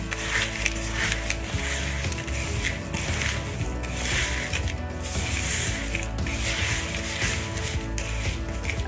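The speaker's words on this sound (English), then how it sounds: "Just give it a bit of a stir." Dry baking ingredients are stirred in a bowl, making a steady scraping and rattling rub that continues throughout at moderate, close range.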